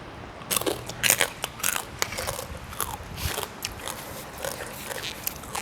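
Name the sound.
biting hard crispy pork rinds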